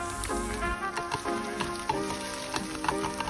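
Eggs frying in a pan over a low flame for egg fried rice, with a continuous crackling sizzle and a few light scraping stirs, close and fairly loud.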